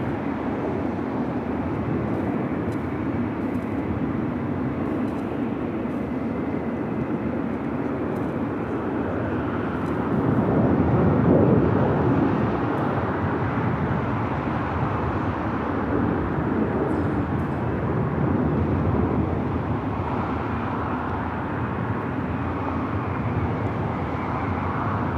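Airliners taxiing at Los Angeles LAX airport give off a steady distant jet-engine roar that swells gently in the middle and then settles, with no talking.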